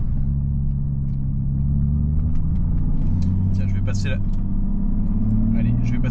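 BMW 850csi with a 5.7-litre V12 idling and running steadily, a deep, constant low mechanical drone close by, with someone talking over it.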